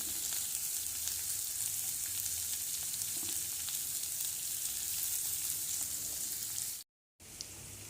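Onions and boiled carrots sizzle in a pan for a vegetable kurma, a steady, close frying hiss that runs continuously, cuts out for a moment near the end, then resumes.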